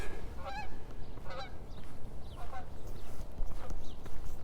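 A goose gives several separate honks, moderately close, outdoors beside a lake near the legislative building in Regina in March, over a steady rumble of wind and distant traffic.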